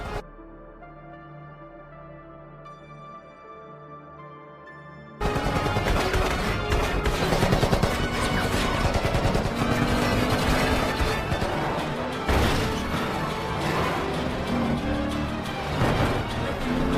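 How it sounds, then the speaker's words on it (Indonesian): Gunfire during a film car chase as gangsters shoot at a pursuing car: after a quiet tonal opening, loud dense bursts of shots and crashing impacts pound on continuously, with a roaring engine beneath. "mereka melepaskan tembakannya yang membuat John terkejut"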